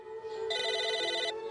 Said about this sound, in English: It's a phone ringing.